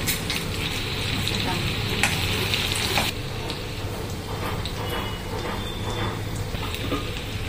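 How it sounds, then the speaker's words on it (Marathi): Finely chopped onion sizzles steadily in hot oil for a Malvani-style crab curry, a constant close crackling hiss that softens slightly partway through as it is stirred. "कांदा चांगलं भाजून घ्यायचो"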